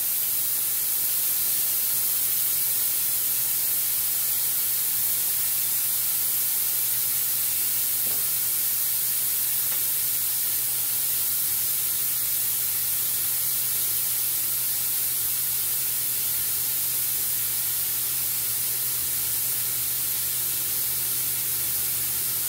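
A steel pressure cooker cooking chicken biryani hisses out steam in a loud, steady, unbroken rush that lasts the whole time, with a low hum underneath.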